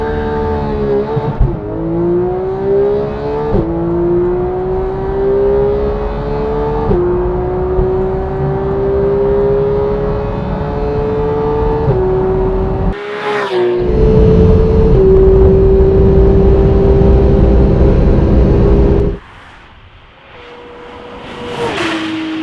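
A Porsche GT3 engine revs hard on the Autobahn, climbing through the gears with rising whine and brief dips at each shift, loud and close with wind and road roar throughout, then backing off near the end.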